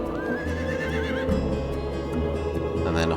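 A horse in the strategy game Age of Wonders II gives a rising, wavering whinny near the start, set against a steady bed of game music and ambience.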